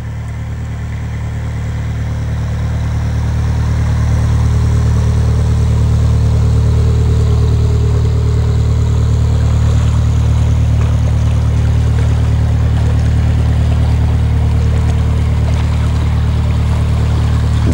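A low, steady engine drone of a boat motoring along a canal, rising in the first seconds and then holding constant, with faint water wash over it.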